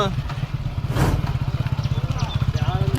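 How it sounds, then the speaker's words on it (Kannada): A motorcycle engine idles close by with a steady, rapid putter, while people talk over it. "ಇವಾಗ ಏನು ಬೈಕ್ ಓಡಿಸ್ತಾನೆ ಅಂತ ಹೇಳ್ತಿದ್ದಾನೆ"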